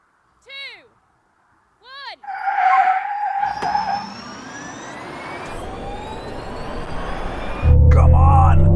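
Tesla Cybertruck and Hummer EV electric trucks launching side by side in a drag race, a sustained loud surge of motor whine and tire noise building after a brief pause, with a voice calling out the start over it.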